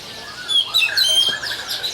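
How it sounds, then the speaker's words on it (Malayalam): Caged pet birds at a bird market in Yogyakarta, Java, give bright, close, overlapping chirps and short tweets for about two seconds. "പലതരത്തിലുള്ള ആയിരക്കണക്കിന് പക്ഷികളുണ്ട് ഇവിടെ."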